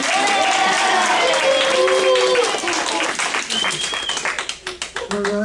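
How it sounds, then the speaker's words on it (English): An audience at a stand-up comedy group show claps and cheers, the applause thinning into scattered claps toward the end while a voice carries over it. "Let's give them all a big round of applause."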